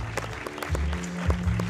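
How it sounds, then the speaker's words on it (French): Applause greets a provincial deputy called to the stage at a film festival closing gala in Liège, a brief patter of clapping over a low, humming background drone. "Sous vos applaudissements"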